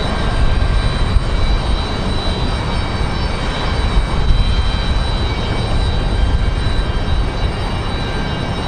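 Lufthansa Boeing 787 Dreamliner at Raleigh-Durham airport on a windy day, a loud steady jet roar with a constant whine held throughout, no voices.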